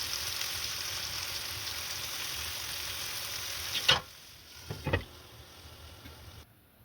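Red sauce for pasta cooking on a low flame, a faint steady sizzle and bubbling that drops away, followed by a few soft clinks and scrapes near the end.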